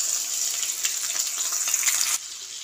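Whole cumin seeds with dried red chilli fry in hot oil for tempering, a steady close sizzle with fine crackling that drops to a softer hiss near the end.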